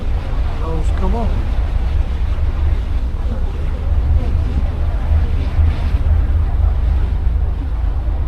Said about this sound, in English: the sea's been pretty choppy all night. It's pretty rough.